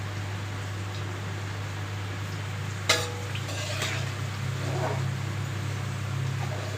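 Garlic fries in oil for a bitter gourd pickle, a steady low hiss under a constant hum, broken by one sharp clatter and a couple of brief scrapes of a utensil in the pan; nearby, without speech.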